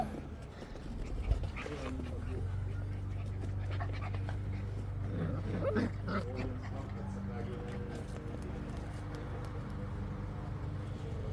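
A two-month-old puppy panting and whimpering close by on a windy island, soft continuous breathy noise with faint whines, someone speaking over it.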